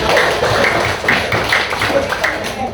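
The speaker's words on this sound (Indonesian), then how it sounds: "Minta tepuk tangan dulu buat." Classroom applause at an elementary school, a quick run of fairly close hand claps and taps with uneven rhythm, some voices mixed in underneath.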